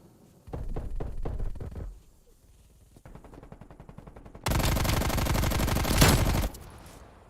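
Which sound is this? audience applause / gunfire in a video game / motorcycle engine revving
gunfire in a video game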